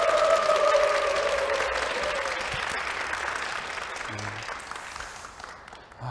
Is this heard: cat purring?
no